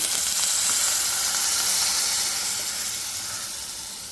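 Ground coconut paste with chilli powder, turmeric and small onions hisses loudly as it hits hot oil, a dense, steamy sizzle that eases off slightly toward the end.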